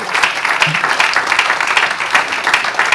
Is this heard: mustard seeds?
no